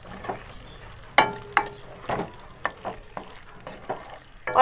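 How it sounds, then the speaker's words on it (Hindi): Potatoes broken by hand are stirred with spices in a pan for a potato sabzi made without garlic, ginger or onion. Irregular scraping and clacking strokes of the spoon sound close up over a soft sizzle, with no talking. "पांचों आलू को मैंने तोड़कर डाल दिया है और अच्छी तरीके से हम मिक्स करेंगे अपनी पांचों आलू को।"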